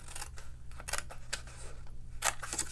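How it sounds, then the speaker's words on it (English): Several crisp snips of scissors cutting paper, close by, in irregular bursts with short pauses between cuts. "we're going to cut away the small rectangle that's in the corner"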